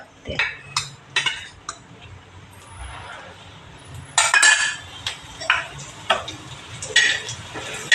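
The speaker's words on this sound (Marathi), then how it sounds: "असा हा मसाला भाजून घेते" Masala with dried chillies and coconut roasting on a griddle, a spatula scraping and clattering in repeated sharp strokes over a soft sizzle, close and fairly loud.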